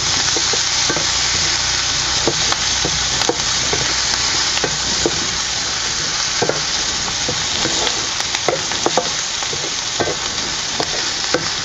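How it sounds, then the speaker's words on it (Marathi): Onion and green chili fry in a pan for Vidarbha-style ukadpendi, a loud, dense sizzle continuing throughout, punctuated by repeated close spoon scrapes and clinks from stirring. "कांदा मिरची आहे आपल्याला चांगलं भाजून घ्यायचं पूर्ण थोडंसं मऊसपर्यंत आपण हे भाजून घेऊया"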